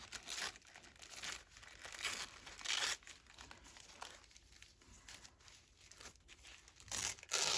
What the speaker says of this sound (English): Let's just give this a tear.